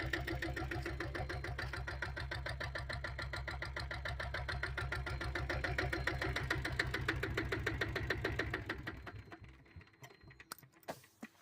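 A diesel Royal Enfield Bullet motorcycle with a 7.5 HP engine idles close by with a loud, steady, fast thumping beat that slows and fades near the end before a few clicks.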